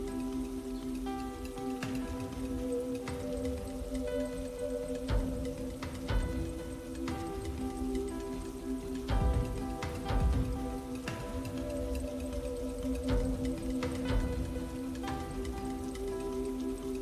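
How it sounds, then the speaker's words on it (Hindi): Steady rain patters along a monsoon trek to Devkund Waterfall in Maharashtra, a continuous wash of drops with faint ticking and no voices. "बारिश और तेज हो गई।"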